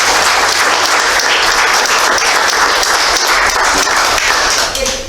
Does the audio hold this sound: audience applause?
yes